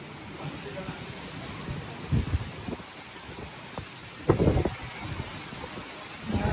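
Steady monsoon downpour rain on an ongoing rainy day, a constant hiss of falling water with wind gusts and occasional louder splashing bursts, and a person talking intermittently over it.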